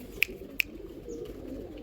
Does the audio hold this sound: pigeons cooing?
yes